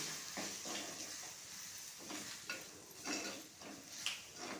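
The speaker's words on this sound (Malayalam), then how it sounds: "ഇനി അതിലേക്ക് ഒരു ടേബിൾ സ്പൂൺ അളവിൽ മുളക് പൊടി ഒരു ടേബിൾ സ്പൂൺ അളവിൽ മല്ലിപ്പൊടി എല്ലാം കുറച്ച് മഞ്ഞൾപ്പൊടി ഒക്കെ ഒന്ന് വഴറ്റി വേവിച്ചെടുക്കണം" Chili, coriander and turmeric powders being stirred and sautéed in a pan for a white chickpea curry, faint low sizzling under intermittent scraping strokes of a spoon, quiet and close with no talk.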